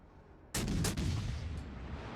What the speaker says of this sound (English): Now we take a shot there at the New York